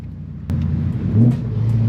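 A BMW M3 engine revs hard and close, a deep throaty roar that swells and rumbles over a couple of seconds.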